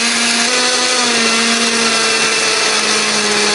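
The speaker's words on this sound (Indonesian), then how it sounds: "Di sini aku menghaluskannya menggunakan blender." Kitchen blender grinding spice paste with a little oil or water, a loud steady motor whir with a constant pitch, running alone and close.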